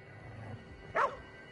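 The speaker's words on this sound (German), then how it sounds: "Warum bellt er?" A single short bark from a dog in the video game Ghostwire Tokyo, faint and somewhat distant, rising out of quiet background ambience.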